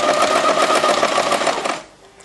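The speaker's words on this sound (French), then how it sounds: "Et puis on coudra en surpiqûre comme on a déjà fait." Steady, rapid whirring stitch of a sewing machine topstitching a bound vest, running loud and close for nearly two seconds before stopping.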